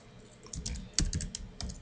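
Key presses on a computer keyboard while switching to an Arabic input method, a few soft clicks followed by a short burst of faster taps, close by with no talking.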